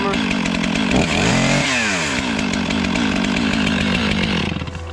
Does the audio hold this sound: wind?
no